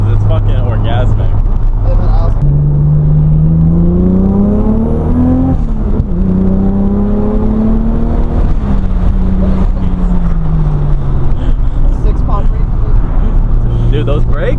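A Toyota Supra engine revs hard while driving, its pitch climbing through the gears, falling back, then rising again, loud and close from inside the car, with someone talking over it.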